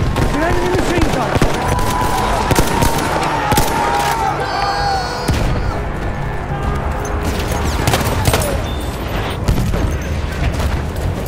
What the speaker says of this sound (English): An enemy machine gun.